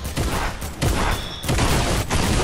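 A sawed-off pump shotgun fires in the Fortnite video game, with several sharp loud blasts in quick succession over about two and a half seconds and no talk.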